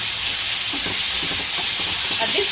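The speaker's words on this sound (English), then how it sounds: "Put your tomatoes, mix up everything." Tomatoes being stirred into a pan of sizzling wet fried broiler chicken: a steady, loud frying hiss runs throughout, with soft wet scraping and stirring knocks scattered across it.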